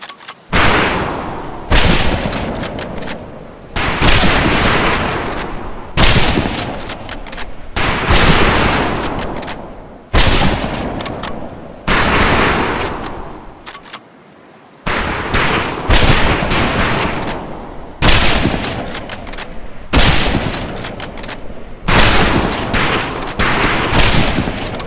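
Rifles firing at targets on a range in the video game Medal of Honor: Pacific Assault, dense loud volleys of overlapping gunfire in repeated bursts with short gaps between.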